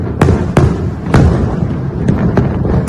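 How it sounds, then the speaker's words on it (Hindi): Diwali fireworks explode in a series of sharp, loud bangs, about six irregular cracks spaced through a noisy background of crowd and distant popping. "दीपावली को लेकर देश भर में जमकर आतिशबाजी की गई।"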